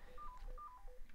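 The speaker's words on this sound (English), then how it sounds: "Sorry about my phone ringing." A mobile phone rings with a short sequence of electronic beeping tones, quiet and somewhat distant, in otherwise near-silent surroundings.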